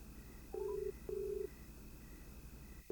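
A telephone sends out short electronic beeps in an uneven sequence, with quiet gaps and a faint steady tone between them, heard softly with no voices.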